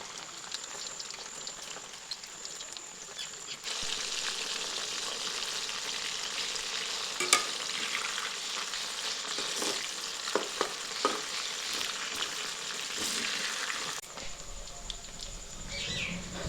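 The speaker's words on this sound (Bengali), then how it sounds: "দিয়ে ভালো করে লাল লাল করে ভেজে নিচ্ছি।" Marinated chicken pieces deep fry in hot white oil for restaurant-style chicken fried rice, giving a steady, loud sizzle full of crackles and pops that swells noticeably after a few seconds and eases slightly near the end.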